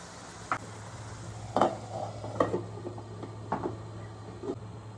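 Chopped tomatoes stirred into masala in a pan on a home stove, with sparse utensil scrapes and clinks against the pan over a low steady hum and faint frying noise.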